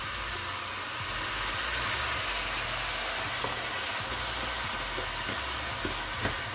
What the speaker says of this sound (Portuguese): Agora é só deixar aqui refogando.